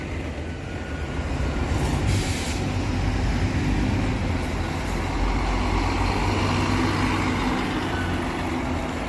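A Viação Cometa bus runs at the Ribeirão Preto bus terminal, its heavy diesel engine giving a loud, steady rumble that swells slightly and then stays constant throughout.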